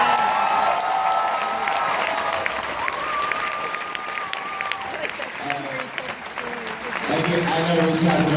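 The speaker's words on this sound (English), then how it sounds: "Ladies and gentlemen, can we give a round of applause to these three gentlemen right here?" Applause and cheering from the audience at a Sundance 2018 screening Q&A in Salt Lake City for three men, a dense steady roar of clapping that runs throughout with a few whoops and shouts mixed in.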